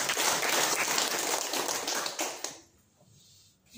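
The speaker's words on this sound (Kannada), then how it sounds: "ಚಪ್ಪಾಳೆ" An audience at an environmental day celebration claps loudly and densely for about two and a half seconds, then the applause quickly fades to near silence.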